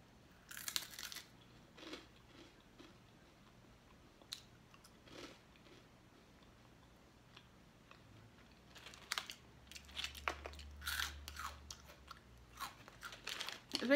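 Crunchy fried Asian potato snack being chewed close up, a series of sharp dry crunches and bites, sparse at first and then denser, with no talking.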